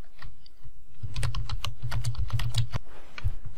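Rapid clicking keystrokes on a computer keyboard, typed in quick irregular bursts with a pause near the end, close and clear.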